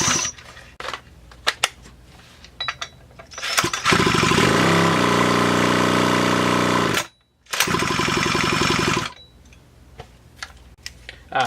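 A Stihl MS360 chainsaw engine bursts into loud, steady running for about three seconds, cuts out briefly, then revs again before dying, with a scraping shroud; clicks and handling noises come before and after.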